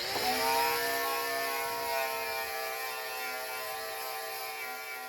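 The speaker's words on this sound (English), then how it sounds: "I've used this angle grinder and I've ground away quite a bit here" Angle grinder working on the metal fender of a Tesla Model 3 to strip paint and clear coat, a steady loud high-pitched whine with strong ringing tones, sustained without a break for about five seconds.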